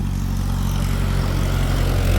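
A steady, loud low engine drone with a constant rumble throughout from a tractor carrying firewood past an apple orchard in Pahalgam, Kashmir.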